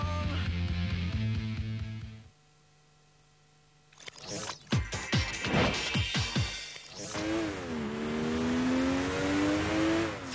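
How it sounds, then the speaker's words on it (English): Racing cars roar at high speed in the arcade driving game Need for Speed Hot Pursuit 2, engines revving and whooshing past in loud bursts, with a brief near-silent gap and sharp crash-like hits before a steady rising engine drone. "So, for edge-of-your-seat driving at blistering speeds with a strong arcade feel, cross the finishing line with Need for Speed Hot Pursuit 2."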